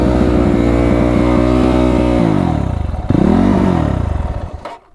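Car engine idling high and running on by itself with no throttle applied, a loud steady drone with a pulsing exhaust note that sags and wavers up and down close by before cutting off abruptly at the end.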